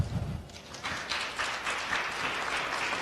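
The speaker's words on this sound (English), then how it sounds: "let's just give them a quick round of applause" Audience applause at a student general meeting, a brief dense burst of many hands clapping at close range that holds steady for a few seconds.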